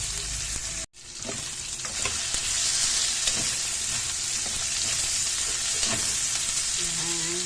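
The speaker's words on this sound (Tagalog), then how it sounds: "Halo-halo na natin ang longganisa." Longganisa sausage fries and sizzles loudly in a pan for a Filipino pakbet, stirred with scraping and clinking utensil sounds over a continuous, close frying hiss after a brief gap.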